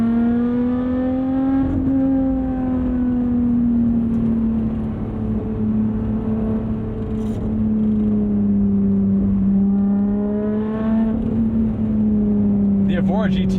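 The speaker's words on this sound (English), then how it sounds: "As for the exhaust mods, will have to decide yourself. I think it sounds good, it's just a little bit too loud for my old man ears." A 2020 Lotus Evora GT with a modified exhaust gives a loud, steady, droning engine note that rises and falls slightly in pitch, heard close and continuous throughout.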